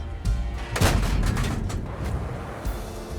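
A Hotchkiss EBR tank in a video game fires a high-explosive shell: one sharp, loud boom followed by a rumbling decay, with smaller impact sounds trailing behind.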